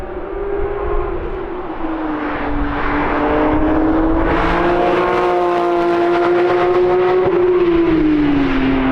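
Cars lapping the Nürburgring at Brünnchen during a Porsche track day, a loud engine note that rises and holds as a car sweeps past, with another car following in, heard from trackside without talk.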